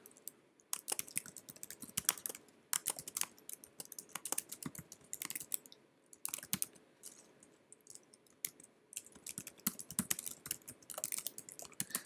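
Computer keyboard keys are pressed in quick, uneven bursts of crisp clicks, close and quiet, with short pauses between runs of typing and no speech.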